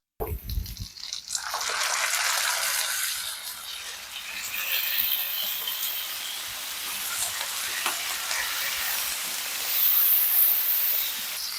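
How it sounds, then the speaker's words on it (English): Water sprayed onto a hot griddle beside cheese-topped smoked pastrami bursts into loud sizzling that settles into a steady steaming hiss, flaring again near the end. "spray it with some water"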